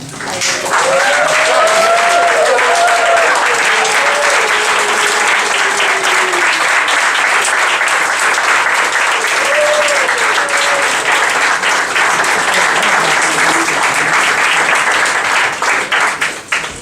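An audience at a radio station's 45th birthday celebration applauds and cheers in a long, loud, sustained ovation, with scattered whoops rising above the steady clapping.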